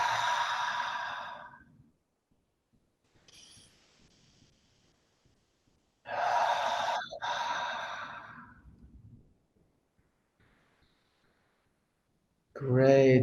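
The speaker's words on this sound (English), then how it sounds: "Taking few deep breaths." Slow, deep breaths taken during a breathwork exercise, with long audible exhales and inhales separated by quiet pauses, close and fairly loud, with a voice briefly heard at the very end.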